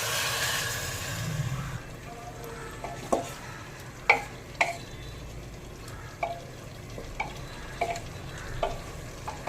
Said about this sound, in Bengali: এবার ঝোলের জন্য পরিমাণ মতন জল দিয়ে দেব